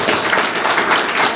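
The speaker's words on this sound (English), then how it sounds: "Paul McElligott, yay, stand up, Paul, take a big cheer." Brief burst of audience applause at an award ceremony, dense steady clapping heard close and fairly loud, with no speech over it.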